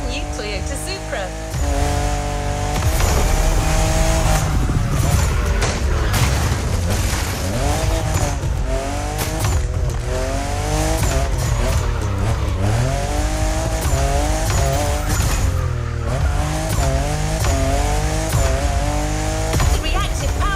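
Toyota Supra racing around a monumental lighthouse in The Crew Motorfest, engine revving loudly with repeated rising and falling gear-change sweeps, tire squeal, and game music and a voice mixed over it.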